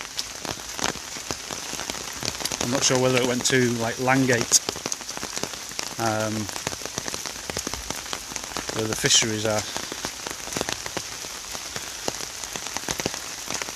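Steady rain patters during a countryside walk around a lake and woodland, a dense even hiss throughout. Someone talks over it in short bursts, close to the microphone.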